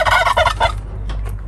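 Chickens in a farmyard, one a broody hen nesting in a box, cluck and gobble loudly up close in a short burst of repeated calls that fade into quieter squawks.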